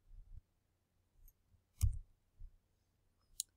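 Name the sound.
typing on calculator buttons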